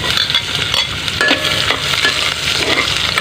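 Chopped ginger and garlic sautéing in hot cooking oil, a steady loud sizzle with scraping stirring strokes through the whole stretch, no voices.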